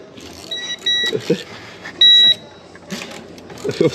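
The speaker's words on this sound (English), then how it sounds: "that tester keeps, when I bang it on stuff, it likes to beep" Sharp electronic beeps sound in short bursts, a couple held longer, with clattering handling noises and brief voices around them.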